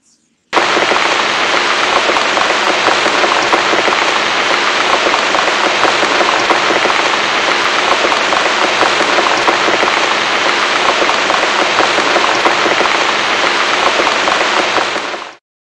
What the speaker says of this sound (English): All I hear is raindrops